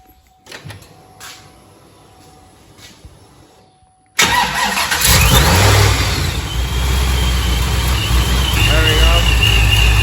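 A ProCharged 441 LSX engine in a C6 Corvette Z06 cranks and fires, settling into a loud, rumbling idle; quiet talk and faint clicks come before it starts.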